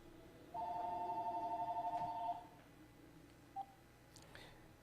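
A telephone rings indoors as a steady warbling electronic tone for about two seconds, followed by a short faint beep, at low level with no speech.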